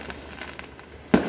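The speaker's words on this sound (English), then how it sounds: "How much fireworks do they have?" Fireworks on Guy Fawkes night in New Zealand, a soft distant crackle and rumble that ends in one sharper, louder burst near the end, with no voices over it.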